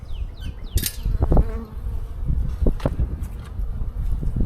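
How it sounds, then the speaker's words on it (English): Honey bees buzz around a beehive during an early spring inspection, several passing close with brief louder whines over a low, gusty outdoor rumble. "see, I've got bees."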